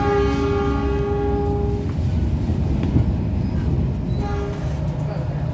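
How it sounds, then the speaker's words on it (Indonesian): A Pangandaran passenger train pulls into Warung Bandrek station, its steady low rumble and wheel noise running loud and close throughout, with sustained tonal whine from the train and a voice speaking over it. "Kereta Pangandaran telah tiba di stasiun Warung Bandrek."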